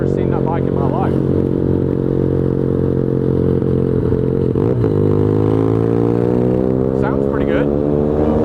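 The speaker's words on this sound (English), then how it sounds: "Dang, I thought my bike was loud. This bike is loud and crap, dude." A loud, close motorcycle engine of an unfamiliar brand drones steadily with a rough, throaty tone, rising and falling slightly as it revs, while people talk over it.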